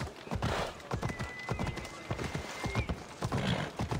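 Horse galloping in the Assassin's Creed Odyssey video game, with steady rhythmic hoof clip-clop close by and a brief whinny, continuing throughout alongside game sounds.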